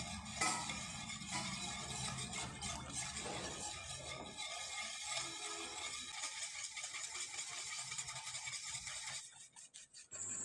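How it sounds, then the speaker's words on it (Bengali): Spoon stirring a thick puffed rice mixture in a pan for a pitha, a steady scraping and rubbing with a faint watery sizzle underneath, close and continuous, then briefly quieter near the end. "এভাবে নেড়েচেড়ে নিতে হবে, নাহলে ভিতরে কিন্তু লেগে যাবে"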